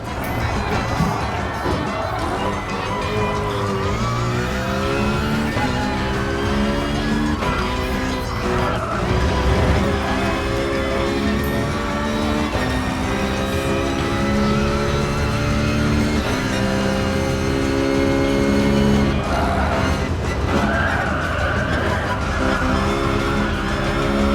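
A race car engine in Gran Turismo Sport on PS4, heard from the interior cockpit view, climbs through the gears, pitch rising and dropping with each shift, loud and continuous, with occasional tire squeal.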